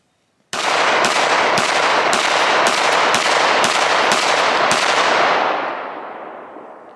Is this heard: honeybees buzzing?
no